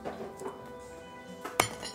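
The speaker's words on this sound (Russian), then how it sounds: "Мы его начинаем медленно нарезать." A knife slices galangal on a cutting board, giving a few soft, quiet cuts and then one sharp clinking tap of the blade against the board, close by with faint room noise behind.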